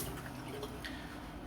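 Running water rinses a safety razor blade during a wet shave, a continuous close splashing and trickling wash.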